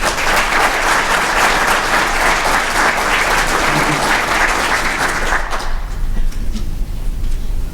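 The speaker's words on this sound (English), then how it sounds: "let's give them all a round of applause" An audience at a police department annual awards ceremony in Blue Springs claps loudly and continuously, the dense applause thinning out and fading over the last couple of seconds.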